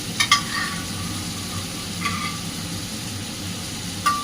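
Vegetables are dropped into cooked-down spiced masala and stirred as they fry: a steady close sizzle runs throughout, with a few sharp spatula scrapes against the pan near the start, middle and end.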